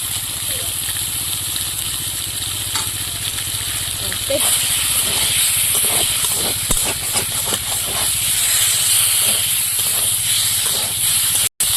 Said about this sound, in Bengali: এবার জিরে আর ধনে বাটাটা দিয়ে দেবো।